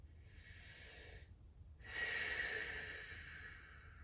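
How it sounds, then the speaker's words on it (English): Two deep cleansing breaths during a yoga session, a soft breathy inhale followed after a short pause by a longer, fuller exhale, close and quiet. "Maybe you want to take some of those cleansing breaths."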